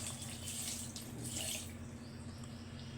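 A glass of water poured into a pot of mutton curry for pressure cooking, a faint splashing gush that is strongest in the first second and a half and then fades to a quieter trickle against a low steady hum.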